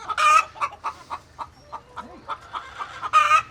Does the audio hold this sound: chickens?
yes